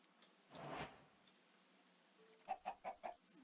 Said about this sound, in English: Like this chicken here.